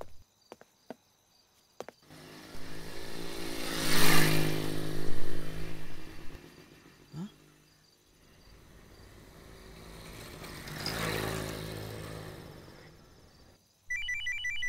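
Phone ringtone sounding in a scene from a Hindi-dubbed South Indian film, ringing in two long swelling bursts separated by a pause, with background noise and a brief electronic chirp at the end.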